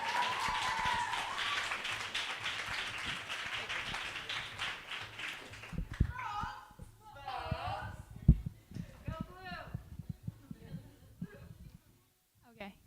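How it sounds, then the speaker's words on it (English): An audience at a youth open mic poetry event claps for a performer, a soft, dense patter that lasts several seconds before thinning out. Scattered speech and rustling follow at a low level. "Can we get a round of applause for Julia?"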